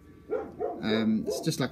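Dogs indoors give a few short, close barks and yips in quick succession, with a brief line of speech over them.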